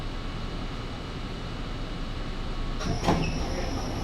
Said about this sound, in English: This is a Slicen bound F train.